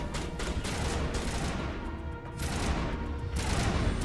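Rapid bursts of gunfire from Mass Effect crackle in dense, repeated volleys, loud and continuous with brief lulls, set against a busy battle ambience.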